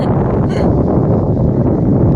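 Wind blows at Eden Beach in Pondicherry, a loud, constant rushing buffet against the microphone that masks other sounds, with no speech.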